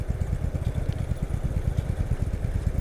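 A motorcycle riding through Sunday traffic, its engine thrumming in a steady low, rapid pulse close by, with no voices over it.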